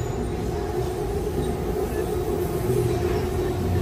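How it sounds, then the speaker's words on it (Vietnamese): An electric train in Thailand rumbles past close by with a steady, loud roar and some wheel squeal, continuous throughout with no talk. "tàu điện."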